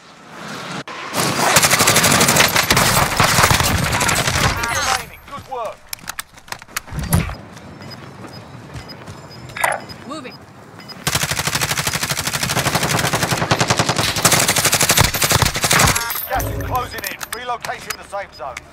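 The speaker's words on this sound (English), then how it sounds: "Taking fire!" Automatic and rifle gunfire in the Call of Duty Warzone video game, loud sustained bursts with brief pauses, mixed with game effects and radio-style voice callouts.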